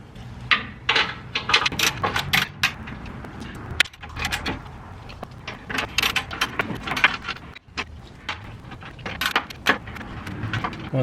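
Bolts tightened on an RCI skid plate under a 2017 Toyota Tacoma: irregular metallic clinks, rattles and tool knocks close by, with brief scraping between them.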